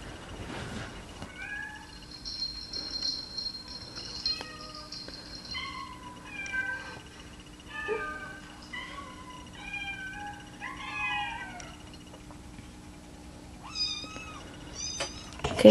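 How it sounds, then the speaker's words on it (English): Several cats meow in turn, a string of plaintive, rising and falling calls with short pauses between them, over a faint steady background hum. "Doing cat's meowing first."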